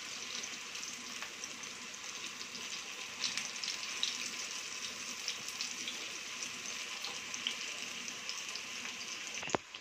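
Slices of raw banana fry in hot oil in a pan, giving a steady bright sizzling hiss with scattered small pops throughout, close and even, with no voices.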